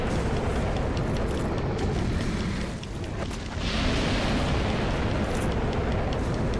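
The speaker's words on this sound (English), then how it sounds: "I'm just like chunking out all my fire bombs" Fire bomb explosions in the video game Dark Souls, a loud continuous roaring blast with a brief dip partway through before a fresh burst of fiery rumble.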